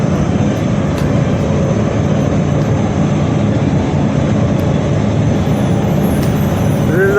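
Broad steady roar of an Emirates airliner at the Dubai Airshow 2021, loud and continuous throughout with a faint higher tone rising near the end.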